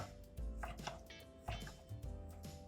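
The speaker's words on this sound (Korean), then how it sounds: "근데 엄마는 어묵을 이렇게 해서 그냥 이렇게 썰 거야." A knife slices Korean fish cake (eomuk) on a cutting board, several soft, fairly quiet chopping knocks at an uneven pace with faint kitchen background.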